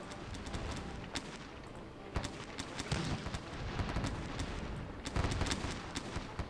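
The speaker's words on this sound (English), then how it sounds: "You're taking a lot of artillery fire." Distant artillery fire in Sid Meier's Gettysburg, a Civil War strategy game: a continuous rumbling barrage with repeated sharp booming reports spaced irregularly, dense and layered throughout.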